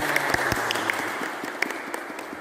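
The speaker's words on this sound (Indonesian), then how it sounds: "Tepuk tangan." Applause from a children's Sunday school class meeting online, scattered, uneven claps with a few sharper individual hits over a faint background tone.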